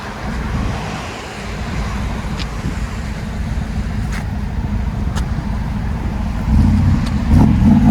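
A 1997 Pontiac Trans Am with dual exhaust and 18-inch Magnaflow mufflers rumbles steadily up close, a deep low idle that swells into a louder rev near the end.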